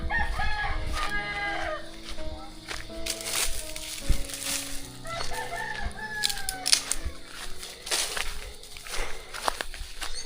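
Chickens and a rooster at a farm chicken coop cluck and crow repeatedly, close and fairly loud, with footsteps and rustling mixed in and no talking.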